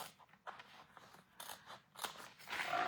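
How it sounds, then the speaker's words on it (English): Scissors snip and scrape through cardstock, following its edge in a run of short, close, crisp cuts with brief pauses between them, growing fuller toward the end. "I'm just gonna use scissors and follow the edge of my cardstock"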